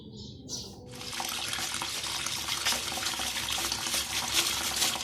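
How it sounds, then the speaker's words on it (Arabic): Tap water runs steadily into a sink as beef tripe is rinsed under the faucet, a loud continuous splashing stream that starts after a brief moment of quieter handling sounds. "هنديها شطفه بسيطه بس تحت الحنفيه من الظهر كده"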